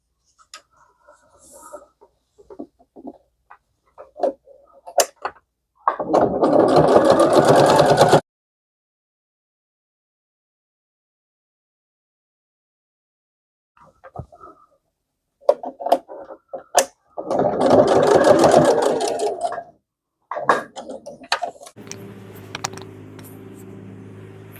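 A sewing machine stitching a strap onto a gardening apron, running in two short bursts of rapid, buzzing stitching, separated by quiet handling sounds and small clicks.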